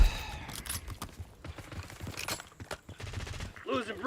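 Bursts of video game gunfire crackle in rapid, irregular volleys mixed with other game noise, with no clear talking over it.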